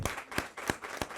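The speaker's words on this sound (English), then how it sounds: "won't you really give them a round of applause for all that they did this morning," A brief patter of applause for panelists at a women's event: four distinct claps land at a steady, unhurried rhythm, fairly close and moderately loud.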